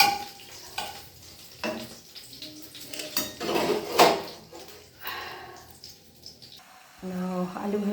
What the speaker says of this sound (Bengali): কটা বাসন আছে আমি মেজে ফেলি